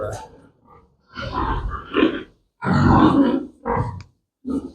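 Pigs grunt in a pig barn in short, rough bursts that come and go close by, with people talking among them.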